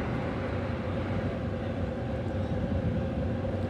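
Passenger train passing straight through without stopping on an Indonesian line between Yogyakarta and Jakarta, a steady loud low rumble and rolling clatter throughout, close by.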